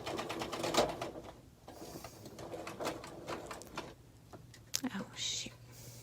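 A sewing machine stitches a table runner, a quiet, fast rattling run of needle strokes that starts and stops, with soft low talk mixed in.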